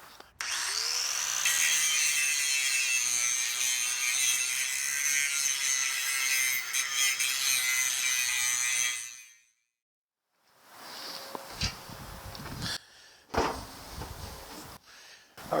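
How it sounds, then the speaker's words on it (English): An angle grinder works down weld beads on a steel box blade for a Kioti CS2520 tractor, a loud steady whine for about nine seconds, then stopping before lighter scraping and clanks. "Now I have to grind down some of these welded areas and put this back on."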